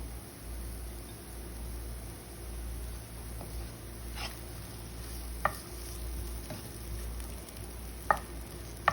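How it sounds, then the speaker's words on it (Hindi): Onions fry lightly in a pan for lasagna with a quiet, steady sizzle, broken by a few soft clicks and taps of stirring. "प्याज को हमने बहुत ज़्यादा ब्राउन नहीं करना, बिल्कुल हल्का सा हम लोगों ने इसको जो है वो सेक लगाना है।"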